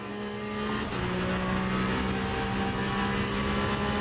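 A hypercar's racing engine drones steadily at Le Mans in the sim racing game Le Mans Ultimate, a sustained high-revving tone with layered harmonics holding loud and even throughout, no voices.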